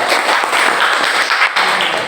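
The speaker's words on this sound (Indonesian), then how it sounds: "Tepuk tangan dulu." A classroom of students clapping for a presenting group: a short burst of quick, dense hand claps close by, lasting about two seconds.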